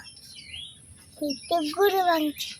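Small birds chirp outdoors in a rural village setting, a few bright tweets early, then a clearer run of chirps in the second half, moderately close over a quiet background with a faint steady hum.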